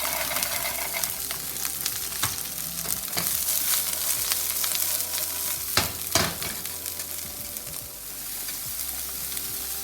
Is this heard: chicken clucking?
no